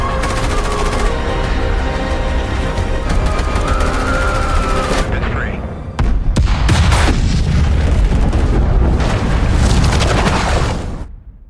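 A film bomb blast erupts in loud, dense booming bursts with crackling debris, a roar that swells again after a brief dip and then fades out.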